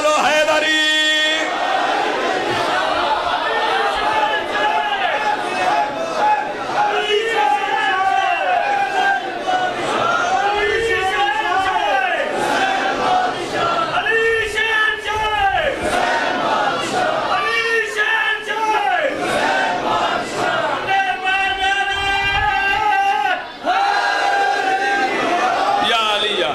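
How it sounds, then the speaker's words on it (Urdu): A gathering at a religious sermon chants Haidari in unison, loud repeated crowd shouts that rise and fall in waves, mixed with a voice leading over a steady reverberant roar. "ہاتھ بلند کرو، مل کے بولو حیدری"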